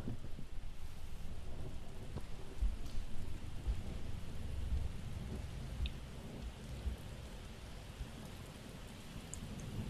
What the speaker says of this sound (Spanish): encima con tormenta